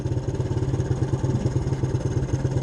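A 1983 Suzuki LT125 ATV engine with a freshly cleaned carburetor runs steadily in neutral, a loud, close, rhythmic single-cylinder putter with a clattery edge and no talk over it.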